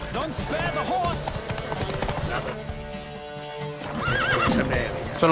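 Horses gallop in a race in the Witcher 3 video game, with a steady, dense clip-clop of hooves and neighing under game voices and background music.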